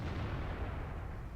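A single loud, heavy boom of a tank gun firing in the World of Tanks video game, a deep blast that fills the short moment alone.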